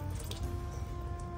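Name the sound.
squeezing water out of salted cabbage for kimchi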